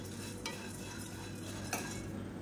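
Barley dry-roasting in a pan with pepper and cumin for millet kanji, faint steady scraping of a stirring spoon with a couple of light metallic ticks, quiet and without talk.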